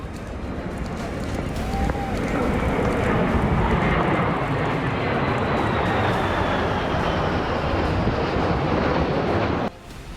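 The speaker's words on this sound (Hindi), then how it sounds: "आसमान में उड़ते जिन 6 लड़ाकू विमानों को आप देख रहे हैं वो अमेरिकी वायुसेना के सबसे घातक बॉम्बर B-1B लॉन्चर हैं" Six US Air Force B-1B heavy bombers fly overhead above a monument in Latvia, producing a loud, sustained jet roar that builds and holds before cutting off abruptly near the end.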